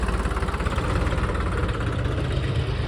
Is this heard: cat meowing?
no